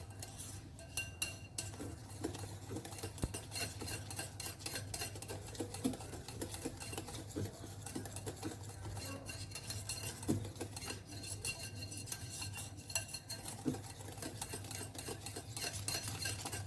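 A spoon stirs a homemade penda mixture in a pan before heating, scraping and clinking in a quick, continuous rhythm. The sound is close and fairly quiet, over a steady low hum, and no one talks.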